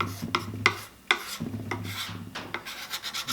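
Finish rubbed by hand into cracks in a piece of wood: close, scratchy rasping strokes in an uneven rhythm, each one a short gritty scrub against the surface, with no voices.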